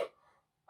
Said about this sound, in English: I feel like I'm going to sneeze.